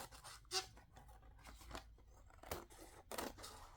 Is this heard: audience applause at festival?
no